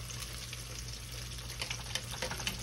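Yellow squash tempura fries in hot grease as a soft, steady sizzle and crackle heard at low volume, with a few small pops near the end and no voices.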